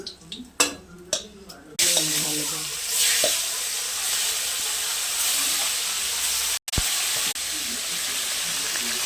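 Hot mustard oil sizzling and hissing steadily in a pan while hilsa fish curry is cooked, after a few clatters of utensils, with a brief spoken remark early on and a sharp break near the end.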